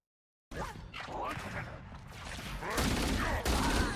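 Rapid automatic gunfire from a Halo video game, with sustained, dense bursts of shots that swell louder toward the end, heard from a game soundtrack without talk.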